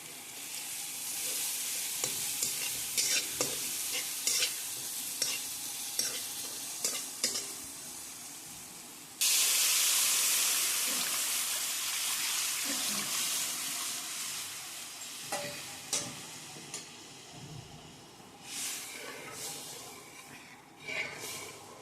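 Mustard seeds, cumin, chillies and leaves hitting hot oil for a kadhi tempering, a loud hiss and sizzle with stirring scrapes and crackles, a sudden burst of intense spattering midway, close-up with brief murmured talk.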